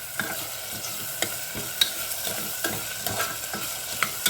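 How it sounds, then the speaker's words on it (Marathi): Onion, tomato and coriander being sautéed in oil in a pan, giving a steady close sizzle with repeated scraping and stirring clicks throughout, and no voices. "सगळं छान परतून घेऊया तेलामध्ये।"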